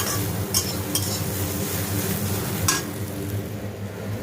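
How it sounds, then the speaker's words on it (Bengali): Bitter gourd and potato slices fry in a pan at home, a loud continuous sizzle with several sharp clinks of a spatula or utensil against the pan, no talking. "এই যে এখানে আমার উচ্ছে আলু ভাজা চলছে, ভাজা বসিয়ে দিয়েছি"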